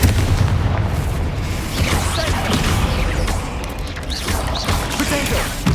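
Confringo spell explosions in the Hogwarts Legacy video game, a dense continuous roar of booming blasts and crashing combat effects, loud and close throughout.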